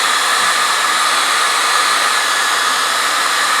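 A hair dryer held close runs continuously to dry wet paint on a canvas during a sip-and-paint painting session, producing a constant loud airy roar with no break and no talking.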